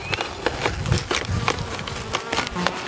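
A swarm of honeybees buzzes around an opened beehive being prepared for a move, a steady close drone with individual bees passing near, plus occasional knocks from handling the hive and no talk.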